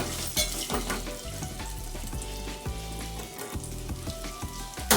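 Hot oil sizzles steadily throughout, with whole spices such as star anise and cloves crackling for a chicken pulao tempering, and occasional stirring clinks of a spoon against the pan.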